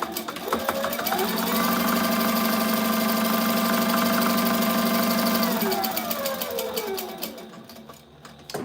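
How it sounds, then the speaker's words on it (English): A sewing machine stitches a tactical riggers belt late at night, its loud, steady mechanical whir running continuously for several seconds before winding down and stopping near the end. "Getting some late night sewing done because sometimes you got to do what you got to do."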